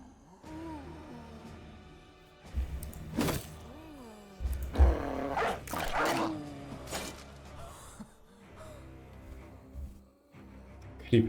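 Dog barks and growling roars from the game Battle Brothers, several sharp bursts scattered over a low musical soundtrack, with gaps of quieter ambience between them.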